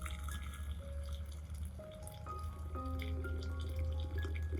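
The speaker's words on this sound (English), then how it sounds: "Add it to 1 liter of boiling water." Liquid pours into a vessel as two teaspoons of turmeric powder go into a liter of boiling water, a continuous splashing, filling sound with rising gurgling tones and drips, close and fairly quiet.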